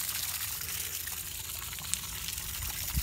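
Water gushing steadily out of an RV fresh water tap under pressure, a loud continuous hiss and splash that holds for the whole span with a small clunk near the end.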